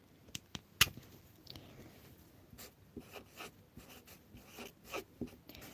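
Names are written by hand with a pen on paper, quiet close scratchy strokes and small taps in an irregular rhythm, with short pauses between words.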